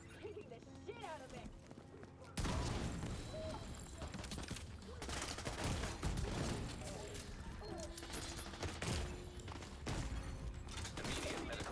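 Heavy automatic gunfire firing disorient bullets in the shooter game The Division 2, sustained rattling bursts after a short quieter lead-in, loud and dense throughout with game effects layered in.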